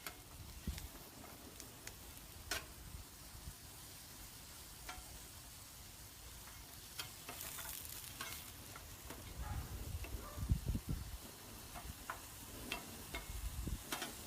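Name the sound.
daikon radish frying on a Blackstone griddle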